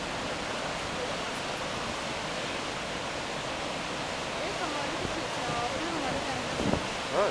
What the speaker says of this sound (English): Saraswati River